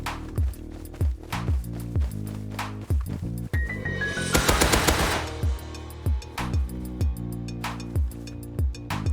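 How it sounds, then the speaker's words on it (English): Tommy gun bursts in the survival game Rust, rapid sharp shots in steady repeated volleys across the whole stretch, with a dense sustained spray in the middle, loud and close with no talking. "I grabbed my Tommy gun and I sprayed them into the ground."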